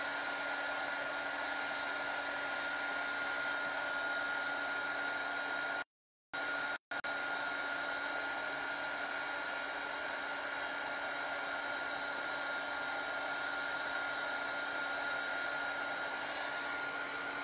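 A heat gun blows hot air over embossing powder on a handmade card, a steady, loud whirring hiss that runs continuously apart from a short break midway, with no talking.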